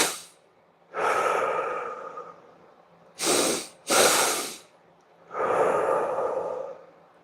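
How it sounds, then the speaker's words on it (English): A person demonstrating a double breathing exercise, producing three loud, close breath sounds: a long breath, then two quick sharp sniffs in a row, then another long breath, with no talking. "double breathing, where you go"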